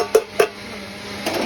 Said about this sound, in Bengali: এখন কিন্তু ঢাকনা খোলা হলো